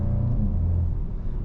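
Engine note of a 2021 Volkswagen GTI in sport mode, cruising on the Autobahn: a steady, deep low rumble with a droning tone, heard from inside the cabin without talk.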